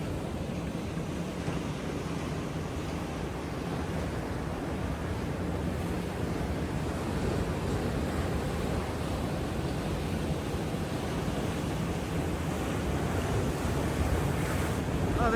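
Ocean surf sprays and washes around a surfer at sunrise, heard as a steady broadband rush of water and wind noise that builds slightly louder toward the end, with no talk.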